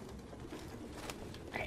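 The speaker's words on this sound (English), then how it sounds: "That is a lot of pigeons." Pigeons coo softly in Detroit: Become Human, faint and distant, with low murmuring calls over a hazy background ambience.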